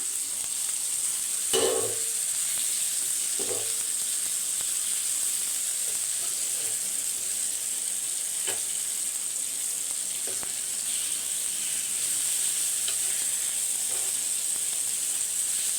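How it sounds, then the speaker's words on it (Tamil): Jilebi fish fries in a pan over a low flame, giving a steady, quiet oil sizzle with occasional soft pops and stirring sounds throughout. "மீன் வந்து எப்பயுமே சிம்மில் வச்சு கொஞ்சம் வறுத்திங்கன்னு வச்சுக்கோங்க"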